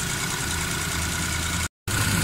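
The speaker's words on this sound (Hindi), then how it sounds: "गाड़ी स्टार्ट है, माशाल्लाह साउंड भी ज़बरदस्त है गाड़ी का" A 2008 automatic pickup's engine idles steadily just after starting, a continuous low rumble with a brief cut before it resumes.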